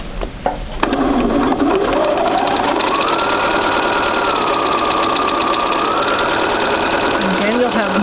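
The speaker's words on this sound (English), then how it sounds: "So we're going to sew right on our marked friction pen line." A sewing machine stitches fabric pieces along a marked friction pen line, running in a steady continuous whir with a rising and falling motor tone after a brief start.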